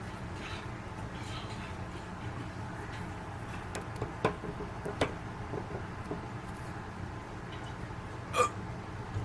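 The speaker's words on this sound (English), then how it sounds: "now I got the hiccups." Quiet hiccups, a few sharp isolated catches spaced seconds apart, over a soft steady room hum with no talking.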